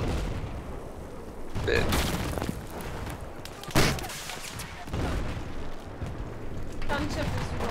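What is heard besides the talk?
gunfire and explosions in video game Battlefield 4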